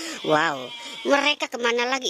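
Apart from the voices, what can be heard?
goat bleating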